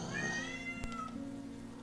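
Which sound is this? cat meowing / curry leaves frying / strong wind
cat meowing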